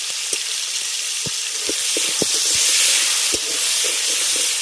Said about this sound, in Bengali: হলুদ আর লবণ দিয়ে আলুটাকে ভেজে নেব